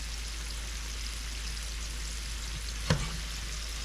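Okra frying in oil on high heat, a steady soft sizzle and crackle with one brief louder pop near the end, close and without speech.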